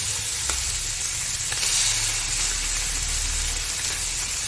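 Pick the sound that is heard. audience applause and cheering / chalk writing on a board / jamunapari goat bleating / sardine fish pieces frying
sardine fish pieces frying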